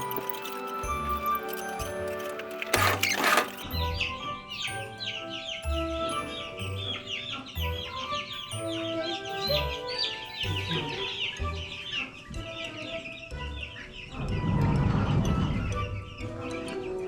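Chickens cluck and chirp steadily in a brooder, with a sharp burst of noise near the start and a louder rustle near the end, while a voice speaks faintly.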